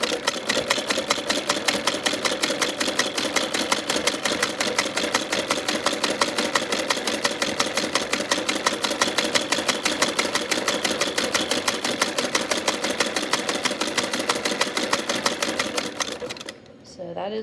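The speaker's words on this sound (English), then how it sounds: "I'm going to start by spinning the balance wheel of the machine in order to guide my feet into a rhythm" A vintage Singer 27 sewing machine fitted with a buttonholer runs steadily and loudly for about sixteen seconds, a fast even mechanical clatter, then slows and stops near the end.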